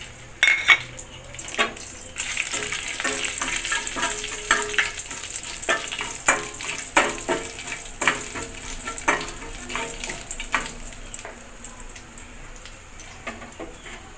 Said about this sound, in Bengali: এখানে তেজপাতা, গোটা জিরা, গোটা গরম মশলা ফোড়নে দেব।